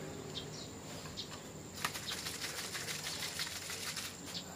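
A container of paint mixed with thinner at about 1:2 is shaken, producing a rapid rattling, sloshing clatter that grows busier and louder partway through and continues to the end.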